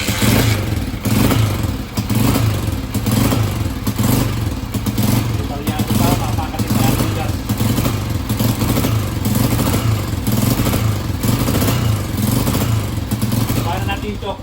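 A Motorstar Starx 125 motorcycle engine, freshly fitted with a TMX Alpha 125 carburetor, idles roughly and steadily close by with a rhythmic thumping putter, while someone talks over it throughout.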